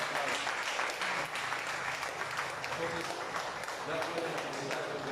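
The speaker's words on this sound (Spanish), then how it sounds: "Fuertes aplausos." A church congregation applauds during a worship service, a steady, dense wash of many hands clapping at moderate distance that holds evenly throughout, with faint voices mixed in.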